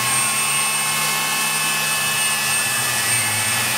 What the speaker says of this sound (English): I've no doubt the compressor will kick in and spoil everything by making an awful lot of